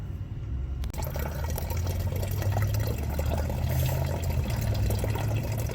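Fluid drains steadily from an open 19 mm drain plug on a 2001 Ford F-250 Powerstroke diesel into a gallon jug, a continuous close-up gurgling pour with a low rumbling undertone and no talk.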